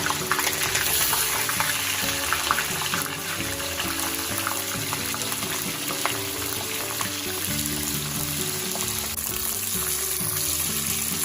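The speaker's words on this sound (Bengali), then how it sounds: "তেলটা গরম হলেই আমি ফুলকপিগুলোকে লাল লাল করে ভেজে নেব" Steamed cauliflower pieces frying in hot oil in a wok, giving a steady, loud sizzle with occasional stirring and scraping, with no voices.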